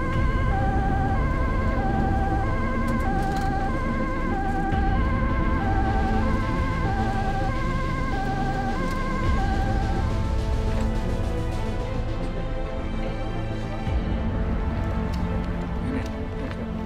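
A Dutch ambulance siren wails in a steady, repeating two-tone pattern for about ten seconds. It stays loud over constant rumbling traffic noise, then drops away and leaves only the noise.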